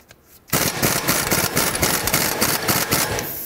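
A pneumatic impact wrench with a 15 mm socket rattles in a fast, loud burst on a strut nut of a 2007-2010 Chrysler Sebring's front strut and spring assembly, running for about three seconds after a brief quiet start.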